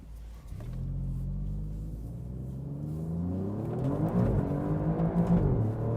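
A 2018 Alfa Romeo Giulia Quadrifoglio accelerates in race mode, its deep engine rumble climbing in pitch through rising revs, loud and close from inside the car, with no speech over it.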